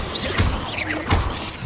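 The Descendo spell in Hogwarts Legacy slams an enemy down, two heavy impact thuds with whooshing swishes around them, spaced under a second apart and fairly loud.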